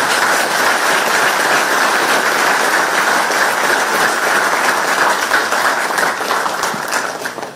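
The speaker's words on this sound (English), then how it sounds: "this needs a big, big round of applause" Large audience applauding at a public talk in Texas, USA, a dense, loud, steady wash of clapping that carries through the whole stretch and tapers slightly at the end.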